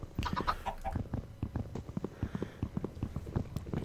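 Minecraft chickens clucking in a game pen, a rapid stream of short clucks and pecking taps repeating steadily and close, with no speech.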